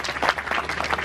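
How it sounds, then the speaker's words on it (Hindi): An audience applauds a dog named Whisky at a Republic Day dog show, a short burst of scattered, uneven clapping heard fairly close with no speech over it. "जोरदार तालियां एक बार विस्की के लिए।"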